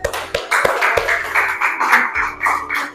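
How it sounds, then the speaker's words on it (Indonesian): Classroom audience clapping for the first student group about to present, a dense burst of hand claps with some sharper individual taps, moderately loud and sustained for a few seconds. "Tepuk tangan untuk kelompok pertama."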